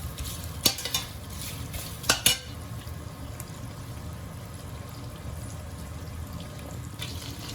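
Eggplant with tomato paste sautés in a pan for the Diyarbakır Meftune dish, a close low sizzle broken by a few sharp scrapes and clicks of a utensil stirring against the pan.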